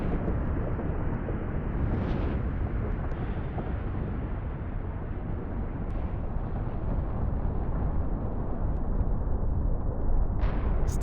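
A phreatic steam explosion bursting from a wheat field on Mount Usu volcano: a loud, continuous deep roar with a few brief hissing surges rising above the steady rumble.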